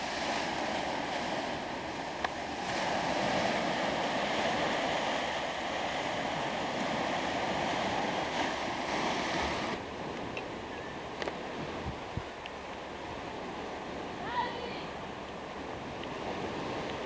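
Ocean surf washing into sea caves worn into cliffs, a steady broad roar with wind buffeting the microphone, continuous and fairly loud throughout with a few faint knocks and no talk.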